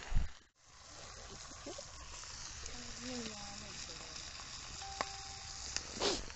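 Stingray fish fries in coconut oil on a flat tawa, a soft steady sizzle beneath a voice, with a quiet clink and light scraping near the end.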